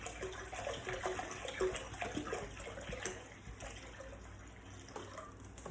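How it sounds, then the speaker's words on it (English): Salt water being poured into a container for a sink-or-float test, a steady splashing trickle running for several seconds, fairly quiet and close, with no talk over it. "So let's pour in my salt water."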